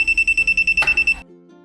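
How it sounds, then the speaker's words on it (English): A receiver gives a rapid series of about ten short, shrill electronic beeps at a steady quick pace, close and clear, ending abruptly after its memory is cleared. "You should hear fast beeping."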